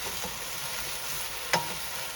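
Soy sauce chicken stir-frying in a pan, a constant close sizzle with a single sharp clink of a utensil partway through, no talk.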